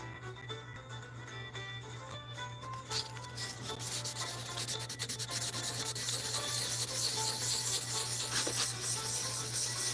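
Hand sanding with a sanding block on a piece being refinished to remove bite marks, a steady rasping scrape that grows louder and denser partway through and continues evenly to the end, with no talking.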